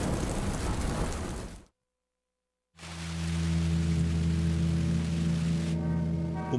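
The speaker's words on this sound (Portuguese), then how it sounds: "Uma chuva torrencial pega de surpresa os moradores do Rio de Janeiro, no Brasil." Torrential rain pours down in Rio de Janeiro as a dense, steady hiss, which cuts out to silence for about a second and returns with low droning tones underneath.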